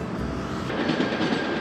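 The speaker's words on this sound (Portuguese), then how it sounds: "O vai e vem dos trens" Trains rumble past in the Lapa district of São Paulo, a steady close clatter of rail cars with rhythmic wheel clicks over the track, loud and unbroken.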